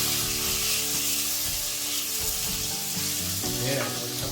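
Salmon steak just flipped and frying in a hot pan, a steady close hiss of sizzling oil that swells and crackles near the end, with no voices.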